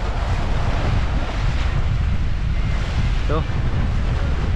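Rough sea pounded by storm waves and a strong current roars steadily close by, mixed with heavy wind buffeting the microphone, while a voice speaks briefly.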